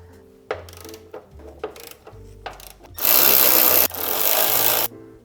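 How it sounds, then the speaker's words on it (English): Three 14mm nuts come off the suspension of a Mazda Miata being fitted with lowering springs: a few close ratchet clicks, then two loud, sustained mechanical bursts about a second long each, with no talking. "Now to take off the three 14mm nuts."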